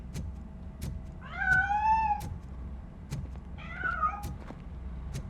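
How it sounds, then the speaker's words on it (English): In RoboCop: Rogue City, a hidden cat meows twice, drawn-out, wavering cries a couple of seconds apart, clear over faint background ambience with soft periodic ticks. "That cat must be hiding inside."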